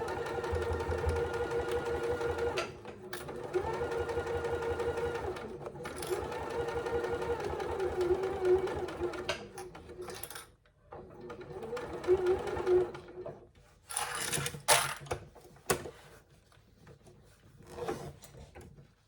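A sewing machine sews a zip pouch seam at a 3/8 inch allowance, humming steadily and close for several seconds, then stopping for handling noises and short clicks before resuming in brief bursts.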